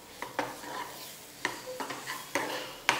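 Mutton sizzles and fries in masala for a Guntur mutton fry while a utensil stirs and scrapes the pan at intervals, sharp clinks rising over a steady close hiss.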